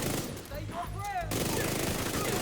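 Rapid gunfire in The Division 2 rattles in dense bursts under a shouting voice and game effects.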